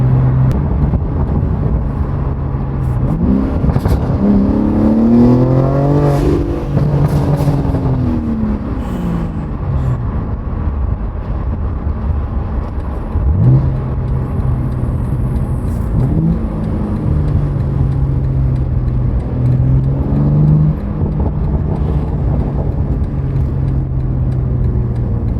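BMW G80 M3 fitted with an AWE Switchpath exhaust and Active Autowerke high-flow GESI catted downpipes, loud and close, revving up in several rising and falling pulls over a steady idle drone with no talking.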